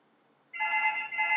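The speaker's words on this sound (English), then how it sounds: "Oh, sorry, that's the phone." A telephone starts ringing indoors, a sudden steady electronic trill that holds loud and alone after a quiet moment.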